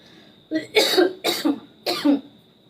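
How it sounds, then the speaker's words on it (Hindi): Three distinct coughs in quick succession, close and fairly loud, with a faint steady tone in the background. "थोड़ी खांसिया आवत रही"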